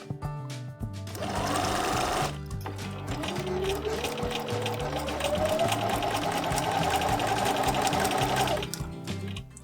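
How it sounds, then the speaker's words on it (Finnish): A sewing machine stitches binding tape onto a hanging chair, running in a steady, fast mechanical whir near and loud, with a short pause early on before it continues without a break. "mä ompelen tähän pitkälle sivulle kanttinauhan"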